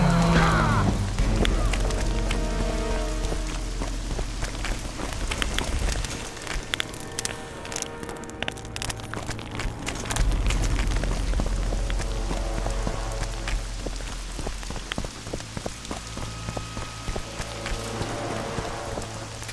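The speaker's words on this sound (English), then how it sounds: "They said it wouldn't rain." Steady rain falls across the game world of The Witcher 2, a dense continuous hiss over low ambient music, with a faint voice briefly audible.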